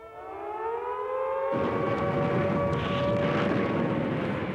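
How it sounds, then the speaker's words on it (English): Wartime air raid sirens in Britain during the Blitz, a rising wail that swells and holds a loud sustained tone, joined by a second, broader roaring layer of aircraft noise partway through, with no talk. "they did when the air raid sirens sounded"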